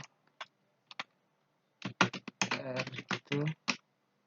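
Clicks from a computer keyboard come from typing into an Excel spreadsheet, first as a few scattered taps and then as a dense, close burst of keystrokes, with no other background sound.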